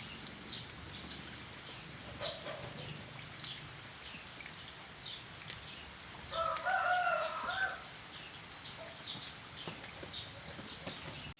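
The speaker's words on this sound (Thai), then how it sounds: "ฝนตก พี่น้องฝนตก" Rain falls steadily outdoors in a soft, faint patter, with a bird calling briefly partway through.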